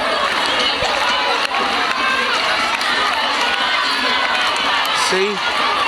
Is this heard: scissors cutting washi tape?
no